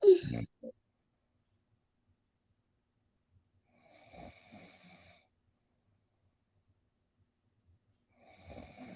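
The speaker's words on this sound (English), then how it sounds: "Is he really snoring? Yes, ma'am. He is snoring." A few soft, rasping snores several seconds apart, quiet and close, with near-silence between breaths.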